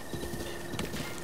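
A horse's hooves clip-clop in Zelda: Breath of the Wild on Master Mode, a faint, steady trotting rhythm under the game's ambient background.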